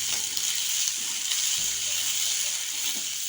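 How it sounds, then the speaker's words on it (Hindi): Chopped green chillies and large tomato pieces frying with onions in a pan for dhaba-style bhindi do pyaza, giving a steady, even sizzle with light stirring clicks and no talking. "अब इसमें हम कटी हुई ये 2-3 मिर्च, ये बड़ा बड़ा कटा हुआ टमाटर डाल दिया है मैंने।"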